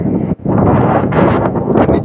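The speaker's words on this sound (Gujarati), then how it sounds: "પવન બહુ" Strong wind buffeting the microphone in loud, rumbling gusts at Okha near Beyt Dwarka, with one brief lull near the start.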